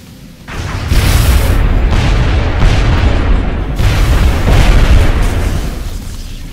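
A loud, deep explosion in the video game XCOM Long War erupts suddenly and rumbles on, a heavy sustained roar with rolling booms that slowly fade, heard alone without talk.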